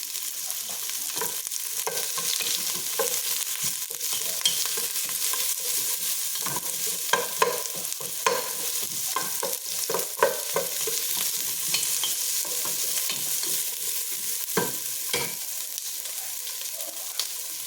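Garlic and onion sauté in a hot pan, a steady bright sizzle broken by repeated scraping stirs, close up and with no talking.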